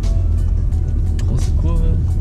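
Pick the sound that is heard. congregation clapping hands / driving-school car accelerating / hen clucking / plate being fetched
driving-school car accelerating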